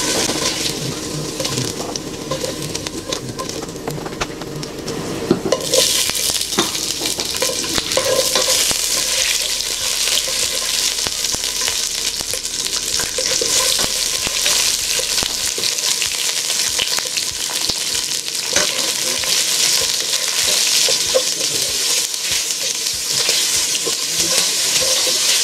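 Beef half-frying in oil in a pan, a loud continuous sizzle and crackle with stirring scrapes throughout, growing brighter and hissier after the first few seconds.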